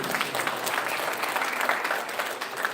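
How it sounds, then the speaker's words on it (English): Audience applause at an international conference, a steady dense wash of many hands clapping at once that holds evenly for the whole span with no voices over it. "A round of applause for them, please."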